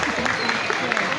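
Audience at a Novruz holiday celebration breaks into a short burst of dense clapping, close and lively, lasting only about a second.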